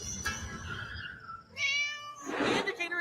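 A cat meows loudly near the microphone in a quiet outdoor setting near an old temple, with two drawn-out meows following soft earlier sounds and a brief voice.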